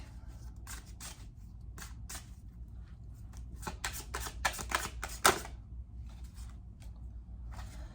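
A Della Luna tarot deck being shuffled by hand, a run of crisp, rapid card riffles and slaps in close succession, building to a sharper snap midway, fairly quiet with no talking.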